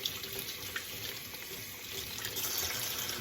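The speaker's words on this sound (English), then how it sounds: "I'm going to wash my scallions." Scallions being washed under running tap water while making spanakopita, a steady close splash and hiss of the faucet stream that stays even throughout with no talking.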